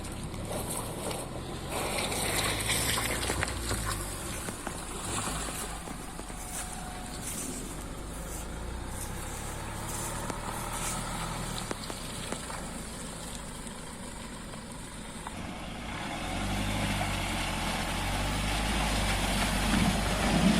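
A new Land Rover Defender with Terrain Response 2 and ATPC crawling off-road over an obstacle, its engine idling and pulling in a low, steady rumble that swells near the end, with occasional creaks and knocks from the vehicle.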